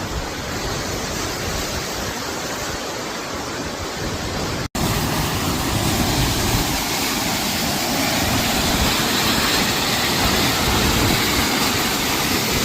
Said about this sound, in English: Found a waterfall.